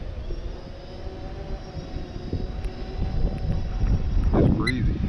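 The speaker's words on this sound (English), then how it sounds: "It's breezy." Strong wind buffets the microphone outdoors while a DJI Phantom 3 Standard drone flies over open cropland in high winds, a steady rumbling roar that swells louder toward the end, with a voice speaking over it.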